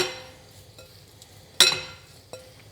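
Shrimp being tossed with kosher salt and coarse ground pepper in a bowl, a quiet scrape and stir with a sharp metallic clink midway and a softer knock near the end.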